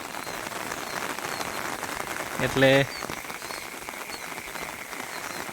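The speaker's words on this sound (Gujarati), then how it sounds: "આગળનું પાણી પણ પડ્યું હતું ને ફરી વરસાદ આવી ગયો છે" Steady rain falls on waterlogged farm fields during the monsoon, a continuous broadband hiss with a brief louder patch of sound in the middle; a voice speaks briefly.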